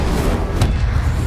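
Incendio fire spell cast in Hogwarts Legacy, a short soft whoosh with a low booming thump, close and alone.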